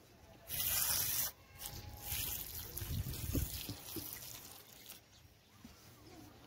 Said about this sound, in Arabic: ورشة مية عليه.